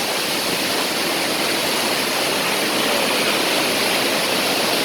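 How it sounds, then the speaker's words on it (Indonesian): Spring water from underground pours steadily into a clear, cool natural bathing pool in North Sumatra, making a loud, constant broadband rush that fills the whole clip without a break. "Air yang langsung dari perut bumi."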